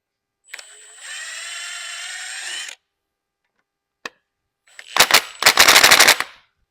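A ratchet works Torx bolts loose from an engine rail on a 6.0 Powerstroke diesel: a sustained whirring run, a lone sharp click, then loud rapid ratcheting bursts close by, with no talk.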